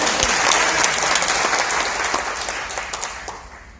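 Crowd applause rolls through a Christian fellowship gathering in Indonesia, loud and close at first with sharp individual claps, then thinning and fading gradually over a few seconds.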